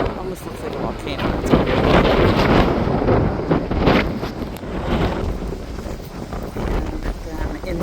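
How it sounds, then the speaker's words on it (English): Strong coastal wind on the pink granite coast of Brittany, gusting hard and buffeting close to the microphone in a loud, rushing, uneven roar that swells and eases without pause. "I am being blown over almost. It's really windy."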